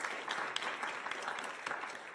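Audience applause at an academic panel on networks, collaboration and community: steady, moderately loud clapping from a seated crowd, dense and continuous with no voices over it.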